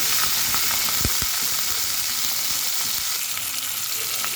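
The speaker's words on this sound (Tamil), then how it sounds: "தக்காளி வெங்காயம் வதங்கிருச்சு இப்போ வந்து உப்பு போட்டுக்கலாம்" Onion, curry leaves and tomato frying in oil for an okra tamarind curry, a loud continuous bright sizzle with a couple of sharp pops and stirring knocks early on.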